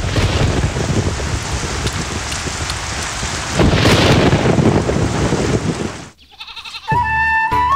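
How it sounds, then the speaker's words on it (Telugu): Heavy rain lashes down outside in a loud, continuous roar, with a deep thunder rumble swelling midway, before the downpour cuts off abruptly into a short passage of sustained tones. "బయట వర్షం ఎక్కువగా పడుతున్నట్టుంది"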